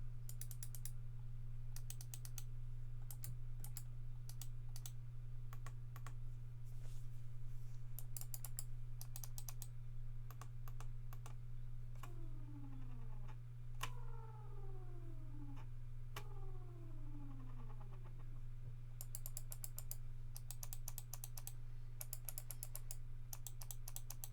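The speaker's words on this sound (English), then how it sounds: "I want to give you a listen to the actual mouse clicks" Crisp clicks from a Logitech MX Master 3 wireless mouse come in quick bursts and scattered single taps over a constant low hum, close and fairly quiet.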